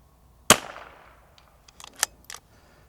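A single rifle shot cracks sharply at 0.5 s and trails off in a long decaying echo across a 150-yard range, followed by a few fainter distant pops and clicks near the end.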